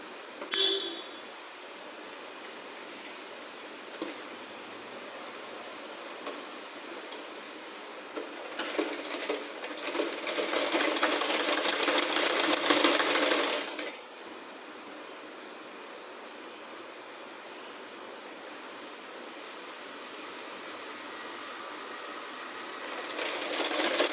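A sewing machine stitching a maagiyar frock runs in one steady, rapid burst of about five seconds near the middle, close and moderately loud, with faint handling clicks and a quiet room before and after.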